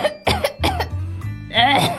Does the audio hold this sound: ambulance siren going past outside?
no